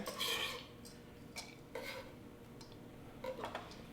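Diced shallot tossed into a salad mixing bowl while making a roasted cauliflower salad, heard as a few light clinks and soft scraping taps against the bowl at close range, quiet and spaced out with no talking.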